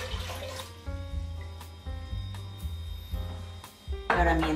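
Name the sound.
pouring two litres of water into a cooking pot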